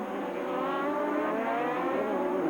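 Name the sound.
Toyota Atlantic race car downshifting into hairpin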